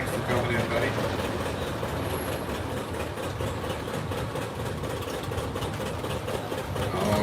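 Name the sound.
1955 John Deere 80 tractor driving past in parade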